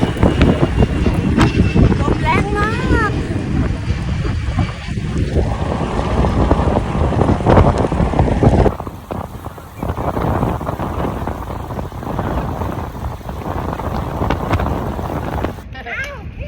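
Strong wind blows while cycling outdoors, roaring and buffeting loudly against the microphone nonstop while people talk over it.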